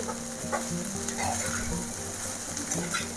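Tamarind leaf pulihora is stirred in a hot pan, with a steady sizzle and repeated scraping strokes close by.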